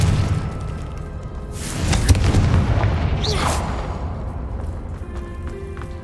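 A Confringo blasting spell goes off in Hogwarts Legacy, with two booming fiery bursts close together about a second apart over a low, rumbling game background.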